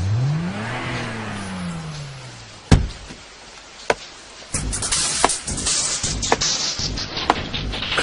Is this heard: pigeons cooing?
no